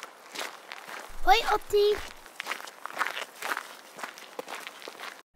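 Footsteps in a stop-motion animated children's Christmas film, light steps pattering along under cheerful talk, with a short burst of louder sound effects near the start.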